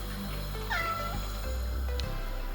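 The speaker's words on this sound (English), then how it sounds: "What's that cat saying?" A cat meows in a drawn-out, rising and falling call, close and clear over a low steady background hum, with no one talking.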